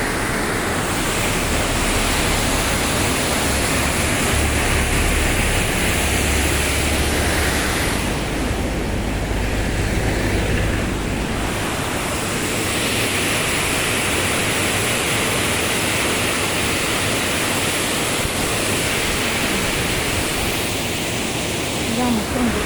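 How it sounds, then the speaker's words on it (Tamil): Water released through an opened sluice rushes and pours without a break, a loud, steady roar of flowing water close by, broadband and unbroken, with a brief dip partway through. "தண்ணி திறந்து ஓடி இருக்குது"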